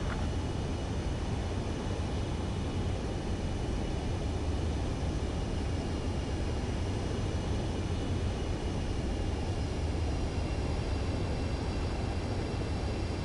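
An aircraft on approach to a runway in the Ace Combat 7 video game: a steady, loud, unbroken roar of jet engine and wind noise, with no speech.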